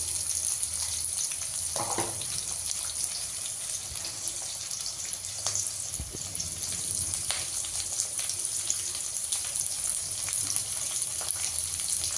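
Onions frying in a pan for masala sambar, with a continuous close hiss and crackle of sizzling oil and a few soft stirring knocks throughout.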